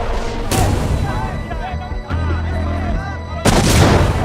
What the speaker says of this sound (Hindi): देखो, तुमने सच बोला तो बाहर पटाखे फूटने लगे।